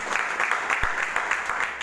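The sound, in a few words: audience applause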